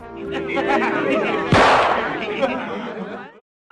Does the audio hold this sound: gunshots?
yes